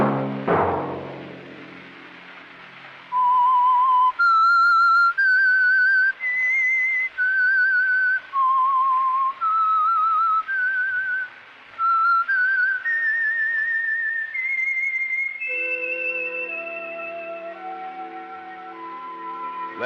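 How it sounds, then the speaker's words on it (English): A lone whistled theme tune from a 1951 radio program, long, clear sustained notes stepping up and down, loud and close, ending with a lower musical passage. "Let that whistle be your signal"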